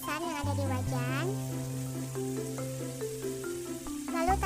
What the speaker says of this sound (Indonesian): campurkan orak-arik telur dengan tumisan yang ada di wajan